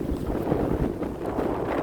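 Strong, gusting wind roars steadily across the microphone outdoors at an RC airplane flying field, making a loud, continuous rumbling buffet with no talking.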